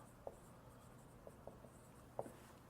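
Marker or chalk strokes on a classroom board while writing out a polynomial long division problem, a few faint scattered taps and squeaks over a quiet room.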